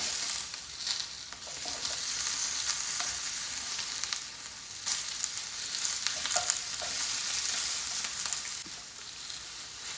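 Chicken pieces frying in oil in a pan for a jalfrezi: a continuous bright crackling sizzle with bursts of popping and stirring, close and steady for about ten seconds, no talking.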